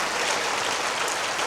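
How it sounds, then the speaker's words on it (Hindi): Applause from an audience at a spiritual class gathering, a dense, steady wash of many hands clapping at an even level throughout, with no voices rising above it. "तो जोरदार तालियां हो जाए नए जन्म की"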